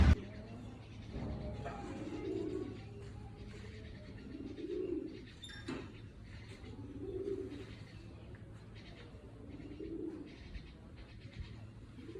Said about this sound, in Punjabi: ਦੀਪ ਕਹਿੰਦਾ ਕਬੂਤਰ ਵੀ ਆ ਮੋਰ ਵੀ ਆ